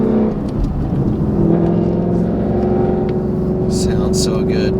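A supercharged Ford Mustang with a Corsa Xtreme cat-back exhaust in normal mode rumbles at a steady low idle, deep and close, with a rising whine and brief higher sounds toward the end.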